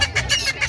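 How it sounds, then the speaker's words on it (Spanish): Chickens clucking nearby in a series of short, quick, pulsing calls over a low background murmur. "Mira los gallinas."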